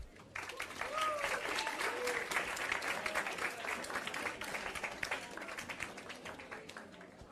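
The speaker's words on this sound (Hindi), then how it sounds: "बजाओ ताली" A classroom of students claps together in a dense, steady burst of applause lasting several seconds, with a voice heard briefly over it.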